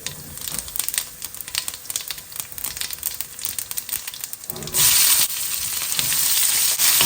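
Cumin seeds and bay leaves sizzle in hot oil in a pan while chole and pulao are being cooked, a steady crackling hiss that swells into a louder, denser sizzle partway through, with no voices.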